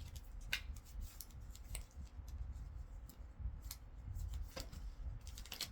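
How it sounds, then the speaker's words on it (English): Tarot cards being shuffled by hand, giving repeated crisp riffling and flicking bursts at an uneven pace, close and moderately loud, with no talking. "These are a little harder to shuffle, so we'll do it like this."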